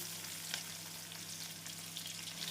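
Chopped onions and garlic frying in hot oil with cumin in a pan for dried anchovy thokku, a steady close sizzle throughout with a faint low hum beneath.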